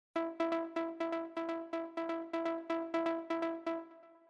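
A melodic techno synth line from a simple Diva preset in the Nova sound bank, run through a rhythmic plugin, pulses as a steady train of short, evenly repeated bright tones at moderate volume, alone and dry.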